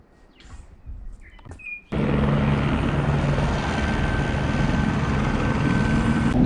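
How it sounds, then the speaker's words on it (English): Quiet outdoor air near Franz Josef, New Zealand, with faint bellbird chirps, then a glacier-tour helicopter's loud, steady rotor roar cuts in abruptly and continues close by. "They're doing all their glacier tours on helicopters."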